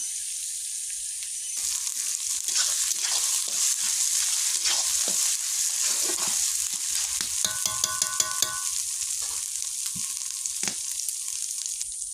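Meat with ginger paste frying in a pan, a continuous bright sizzle with intermittent scraping and clattering strokes of a spatula stirring, close and fairly loud throughout.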